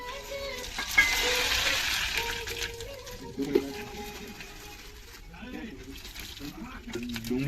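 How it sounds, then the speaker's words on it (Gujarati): A dal tempering sizzles loudly in hot oil outdoors at a farm gathering, a bright hiss strongest at first and then fading, while people talk nearby. "ચાલો વઘાર થાય છે હવે"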